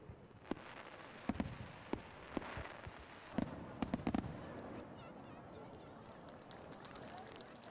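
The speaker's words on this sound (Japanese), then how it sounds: "祭りのフィナーレには花火が打ち上げられました。" Scattered sharp bangs of fireworks bursting at a distance during a festival finale in Ibaraki, Japan, irregular and fairly faint, over a steady crowd murmur with people talking.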